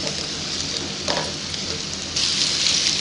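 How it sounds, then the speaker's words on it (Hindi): Sweet potato pieces frying in hot oil, a steady close sizzle that crackles and hisses continuously and grows a bit brighter toward the end. "4 से 5 मिनट हम यहाँ पे इसे ऑयल में इसी तरीके से फ्राई करेंगे"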